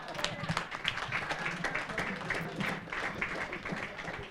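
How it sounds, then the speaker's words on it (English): An audience at a learning conference applauds panelists, steady, fairly dense clapping from many hands continuing throughout with some voices underneath. "Keep clapping until we sit down."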